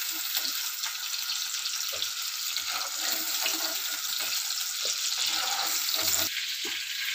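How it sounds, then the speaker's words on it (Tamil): Eggplant fries in hot oil, giving a continuous close sizzling hiss with soft scattered clatters of stirring, and no talk. "இதை ஒவ்வொரு தடவையும் இந்த மாதிரி ரெண்டு மூணு தடவையாக கொஞ்சம் பொறிச்சு கொஞ்சம் கொஞ்சமாக போட்டு பொறிச்சு அள்ளி எடுத்துக்கணும்"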